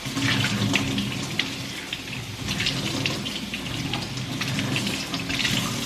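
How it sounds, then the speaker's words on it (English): Tap water runs into a dish in a kitchen sink for rinsing, a steady splashing stream with small clinks, close and continuous with no voices. "so now to rinse, I'm just gonna add water in here."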